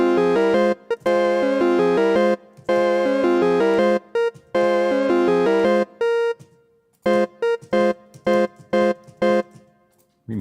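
Chiptune three-part harmony with square-wave tones playing a diminished chord figure that resolves to F, choppy rhythmic note bursts with gaps between phrases, loud and alone.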